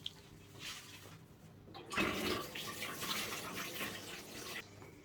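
Tap water runs steadily over a Snow White orchid being rinsed off, a continuous splashing wash that starts abruptly and carries on close by, with no talking.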